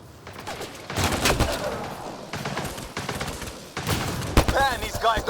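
Sustained gunfire in the video game Mass Effect Andromeda, loud bursts of rapid shots and impacts crashing in waves, with shouting voices and combat chatter mixed in.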